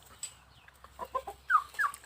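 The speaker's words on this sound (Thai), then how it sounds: "ก็ไก่ระดับนี้มีไม่ถึงสิบตัวนะไก่ตัวใหญ่" Chickens cluck softly nearby in short, scattered calls that grow a little louder toward the end, with no other sound around them.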